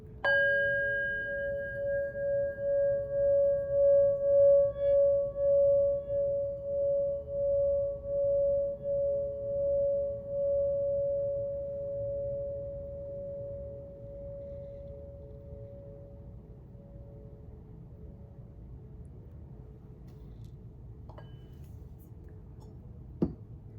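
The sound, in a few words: singing bowl tones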